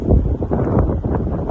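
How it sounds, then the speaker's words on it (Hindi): Strong wind roars across a mountain road near Mukteshwar, a steady broadband rush with gusting swells, loud and close, buffeting the microphone throughout. "क्या तगड़ी हवा चल रही है भाई साहब"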